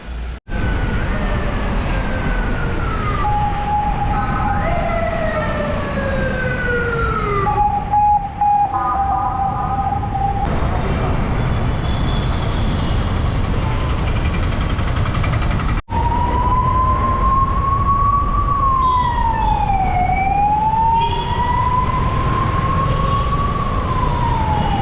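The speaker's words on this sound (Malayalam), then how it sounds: "ഒരു ആംബുലൻസ് വന്നിട്ട് അവിടെ വെറുതെ ഇങ്ങനെ പോകാൻ സ്ഥലമില്ലാണ്ട് വെയിറ്റ് ചെയ്യുമായിരുന്നു." An ambulance siren wails through congested evening traffic in Ernakulam, heard from a bicycle; loud rising and falling tones sweep again and again over a constant roar of road and wind noise.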